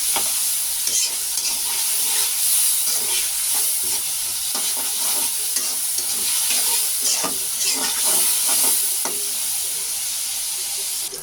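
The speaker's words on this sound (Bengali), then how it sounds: "এখন আমি পেঁয়াজ আর মরিচটা ভেজে নিচ্ছি তেলের উপরে" Onions and chilies sizzle loudly in hot oil, a continuous crackling hiss with occasional stirring scrapes, close and without talk.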